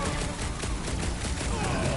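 Continuous rapid gunfire in Marvel's Guardians of the Galaxy, a dense rattling barrage held at steady loudness with game voices talking over it.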